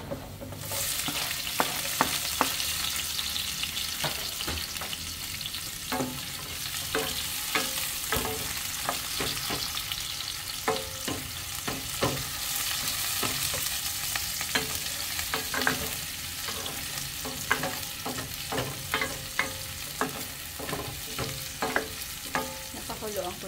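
Onions frying in a pan while being stirred, a continuous sizzle with repeated scraping strokes of the spoon at an irregular rhythm, close and alone with no voices.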